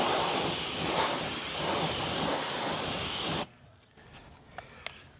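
Cleantle Tire Pro tire cleaner sprays onto a car tire in a loud, steady hiss lasting over three seconds, then stops abruptly, leaving quiet room sound and a few faint clicks.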